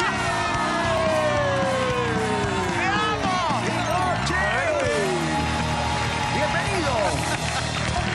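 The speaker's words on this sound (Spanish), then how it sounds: "¡Fuerte el aplauso para recibir a Ricky" A television studio audience welcomes a guest with dense, sustained applause, cheers and whoops, while a voice talks loudly over the noise.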